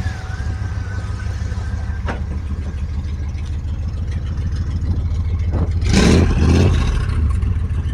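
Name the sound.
car engine revving with exhaust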